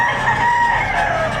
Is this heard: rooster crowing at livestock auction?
yes